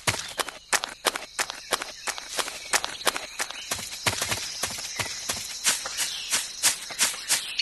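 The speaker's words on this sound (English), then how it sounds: "I hear footsteps." Repeated footsteps from the Metal Gear Solid 3 video game, sharp regular steps building steadily and drawing closer over several seconds with no talk.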